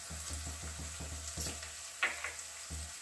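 Spoon stirring a potato and semolina kachori filling with chaat and sambar masala in a pan, a steady run of soft rhythmic scrapes over a low sizzling background hiss.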